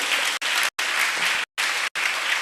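An audience at a church gathering in Jampani claps in bright, dense bursts, broken by three short silences between rounds of applause.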